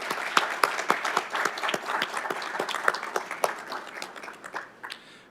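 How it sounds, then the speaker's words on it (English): An audience applauds NIJ LEADS scholars at an evidence-based policing event, a burst of many hands clapping at close range that thins and fades toward the end. "I'd like to give everybody a round of applause."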